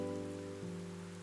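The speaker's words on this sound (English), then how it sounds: "The rain was coming down pretty hard outside the window." Heavy rain in the video game 428: Shibuya Scramble makes a steady, dense hiss beneath sustained musical tones, with no one speaking.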